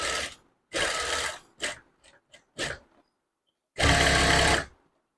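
A sewing machine stitches a blouse lining in short bursts, close and loud, with a few brief mechanical clicks between runs and a final longer stretch of stitching before it stops.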